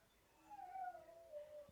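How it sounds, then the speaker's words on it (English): Dogs howl in the distance outside a home kitchen: one faint, drawn-out howl that rises and slowly falls over about a second, with no talk. "Oh, the dogs are going to howling"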